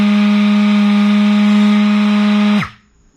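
Milwaukee M18 quarter sheet sander, model 2649-20, running with a loud steady high whine, then braking to a quick stop that ends in near silence.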